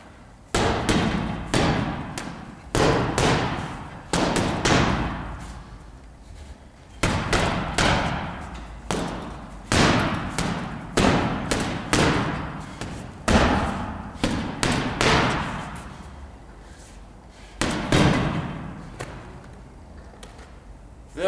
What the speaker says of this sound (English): If you hit it really hard with any shot, it will probably bring the bag back in on itself in another direction.